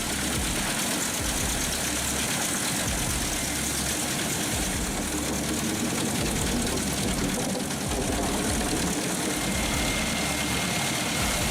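A wood chipper truck with a 480 HP MAN engine and a finger crane runs steadily, a dense continuous loud mechanical roar and drone with no breaks.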